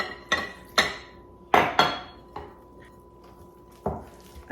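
Bread dough being mixed by hand in a bowl, heard as a handful of sharp knocks and clinks of utensil against bowl spaced irregularly, close and moderately loud with quiet gaps between.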